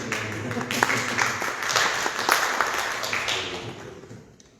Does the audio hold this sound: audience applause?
yes